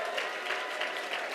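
Steady applause from an audience at an awards show in a Hyatt hotel ballroom, an even wash of clapping that holds at a moderate level without pauses or voices.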